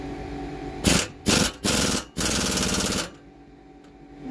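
An air ratchet, not a proper impact ratchet, spins off sway bar bolts on a Sprinter-based Winnebago View Navion, with four loud bursts of buzzing close by, the last one held for about a second before cutting off.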